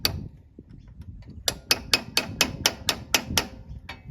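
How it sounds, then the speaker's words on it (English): A hammer strikes a chisel against bolt threads to deform them, about ten sharp metallic taps in an even, quick rhythm after a quieter start, close and loud with no talking. "you get a chisel and just mess up the threads"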